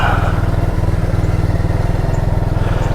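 A Honda Grom motorcycle engine runs steadily close by with a rapid, even putter and no talking over it.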